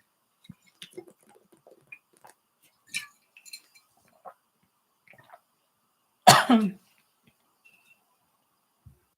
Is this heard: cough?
yes